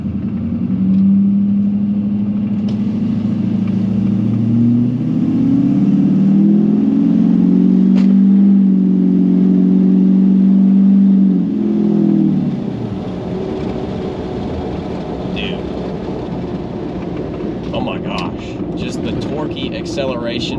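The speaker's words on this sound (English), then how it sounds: "Acceleration paired with all the glorious noises." LBZ diesel truck fitted with an HSP high flow intake revs and accelerates, its engine roaring loudly and rising for several seconds before settling to a lower rumble, with a voice talking over it.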